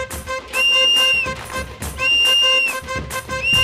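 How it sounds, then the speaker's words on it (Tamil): A person whistles a repeated rising two-note call, three times in a row, loud and close, with no talk, in a comic skit about a sanitation worker. "நான் விசில் அடிப்பேன்டா."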